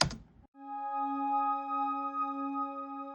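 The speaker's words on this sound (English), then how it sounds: "Get a very ambient, warm synth pad that sounds something like this." A soft, warm synthesized pad swells in after a brief click and holds a steady, mellow chord, quiet and gently pulsing.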